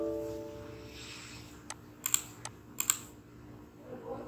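A few quick key clicks on a computer keyboard, typed in two short bursts, faint and close over a soft room hum.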